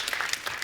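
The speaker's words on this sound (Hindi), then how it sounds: "जोरदार तालियां सबके लिए" Audience applause for a film's star cast at a public event, a short burst of steady clapping with no break.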